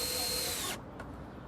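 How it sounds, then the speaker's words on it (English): A cordless battery drill driving a screw to fix a timber block to a deck joist: a steady high motor whine that cuts off abruptly partway through, followed by a quiet tail of room noise. "I'm going to use the battery drill to screw the block in place."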